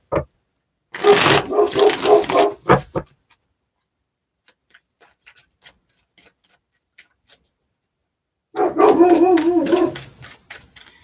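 A dog barks in two loud bursts of rapid barking separated by several seconds of near silence with faint scattered ticks.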